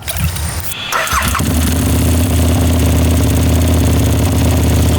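A modified ride-on toy car's 1,000cc, 105hp engine cranks briefly, catches, and settles into a loud, steady buzzing idle that runs on without talk.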